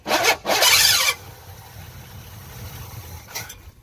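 A Pontiac Trans Am engine that has sat for over 20 years cranks over in two short, loud, whirring bursts, followed by a quieter low rumble.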